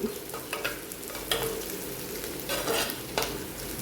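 Garlic fries with softened onions in a pan, a steady close sizzle broken by a few stirring scrapes and spoon knocks; no voices.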